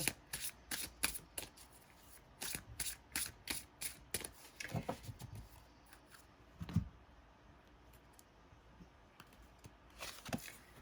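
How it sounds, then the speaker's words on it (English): Tarot cards being shuffled and drawn, a run of quick riffling card flicks and slides near the microphone in bursts, with quieter gaps between. "Okay, 2 more cards from Spirit, and we'll tie up your reading here, Leah."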